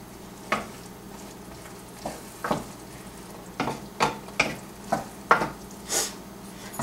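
Cinnamon apples sautéing in a pan, a soft steady sizzle with scattered stirring scrapes and clinks of a utensil, close and fairly quiet, no talk.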